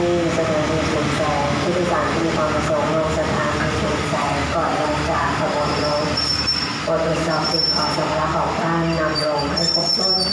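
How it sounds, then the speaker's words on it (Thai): Express train No. 108 pulls into a station platform with loud, continuous wheel squeal and rumbling carriages. Voices can be heard over the steady din. "ขบวนรถที่เข้าเทียบชานชลาสถานีขณะนี้เป็นขบวนรถเร็วเที่ยวล่องขบวนที่ 108"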